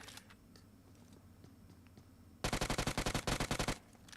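PUBG Mobile gunfire: a rapid automatic burst of about a dozen loud, evenly spaced shots with a brief gap in the middle, preceded by quieter ambient game noise and faint distant pops.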